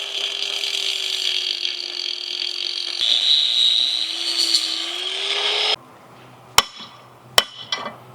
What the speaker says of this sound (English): Now I got the grinder and we're going to chop this thing right off.